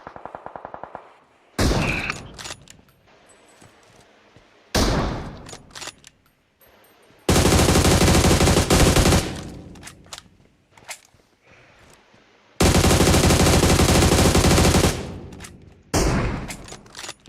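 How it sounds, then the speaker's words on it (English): Automatic gunfire in PUBG Mobile during a community match, loud sustained bursts of rapid shots alternating with shorter volleys and brief quiet gaps, close and dense. "It is shots on shots."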